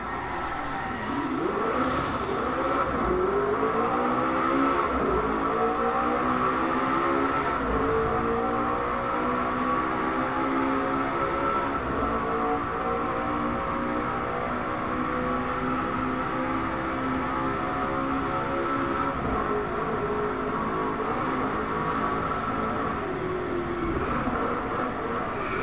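A McLaren 650S engine in the racing game Driveclub whines up through the gears in repeated rising sweeps on a track, steady and loud, with no talking.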